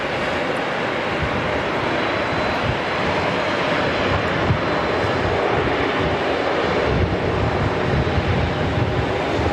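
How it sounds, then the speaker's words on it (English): A black-liveried Boeing 777 departing Auckland Airport for Narita, a loud continuous jet engine roar with broad rumbling noise, steady throughout and heard from a fair distance. "this Black Livery 777 heading off to Narita"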